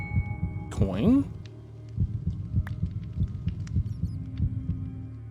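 Heartbeat from the Minecraft Decked Out dungeon game, a steady low thumping pulse with a faint hum beneath it, and a brief sweeping game tone near the start.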